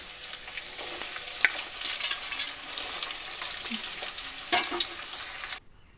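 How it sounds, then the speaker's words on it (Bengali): Chopped onion fries in hot ghee with a soft, even sizzle, broken by occasional spoon clicks and stirring scrapes, close by and with no talking; the sound cuts off near the end. "ওটাও গরম হয়ে গেলে এর মধ্যে আমি দিয়ে দেবো পেঁয়াজ কুচনো পেঁয়াজ"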